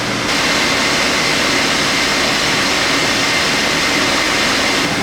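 Black Ghost car engine revving hard on a dyno up to about 6,000 RPM, a loud, steady, dense roar held unbroken for the whole stretch with no voices over it.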